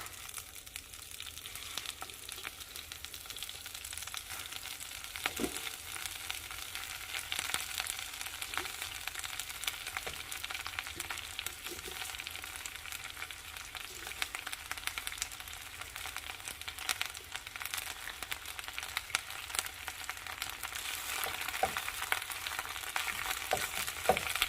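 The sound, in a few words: baby spinach sautéing in olive oil in a pan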